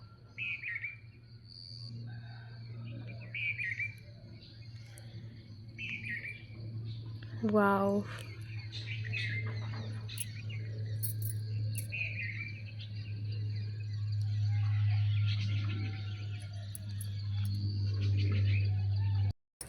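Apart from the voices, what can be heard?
birds chirping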